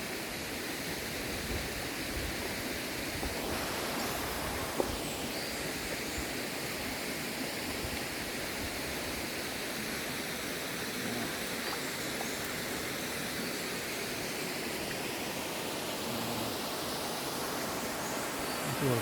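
Argyle Waterfall in Tobago pours in a steady, dense rush of falling water that fills the whole scene evenly and closely, with no voices heard.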